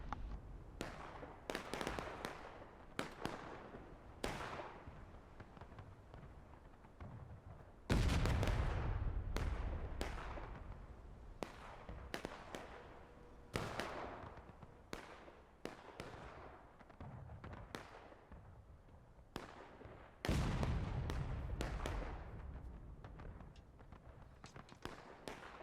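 Cannon fire in War of Rights, a Civil War battle game: repeated heavy booms spaced several seconds apart, some near and loud, others distant, amid scattered crackling gunfire.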